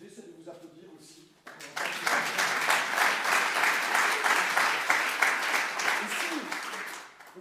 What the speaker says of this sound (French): Je pense que l'idée, c'est de vous applaudir aussi.